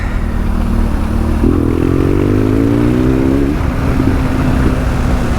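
A custom BMW 1200 GSA motorcycle engine runs steadily up close, then revs up with a rising pitch for about two seconds before easing back to a steady drone, with no talk over it.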